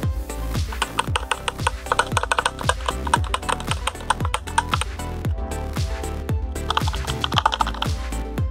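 Brisk typing on a Bluetooth keyboard, a steady run of close, crisp key clicks with occasional louder strikes, heard alone without talk.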